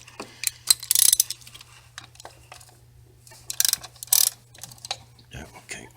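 A 3/8-inch drive ratchet with a 10 mm socket on an extension clicks in short bursts while loosening a thermostat housing bolt on a 2015 Dodge Grand Caravan R/T 3.6L, close and fairly quiet.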